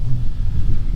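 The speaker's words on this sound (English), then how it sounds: "Pardon the wind." Low rumbling wind buffets a microphone outdoors at a chicken coop build site in Alaska, a steady loud whoosh filling the whole second with no other sound.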